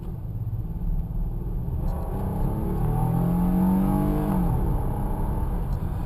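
A 1996 Nissan Maxima accelerating hard during a road test, its engine rumble rising steadily in pitch as it pulls through a gear, heard from inside the car, loud and continuous with no talking.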